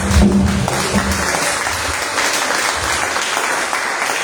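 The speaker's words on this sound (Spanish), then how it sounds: "Un aplauso al Señor." A church congregation claps together in steady, dense applause, loud and close, with a few faint voices underneath and no clear speech.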